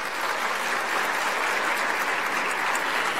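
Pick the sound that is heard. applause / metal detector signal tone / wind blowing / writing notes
applause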